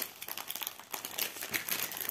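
Plastic packaging of a stamped cross-stitch kit with 14-count canvas and 30 colours crinkles and rustles continuously up close as the kit is unboxed, with no talking.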